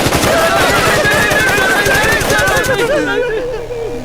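Rapid machine gun bursts from an action movie shootout, loud and dense for about three seconds with shouting voices mixed in, then the firing cuts off and the noise fades.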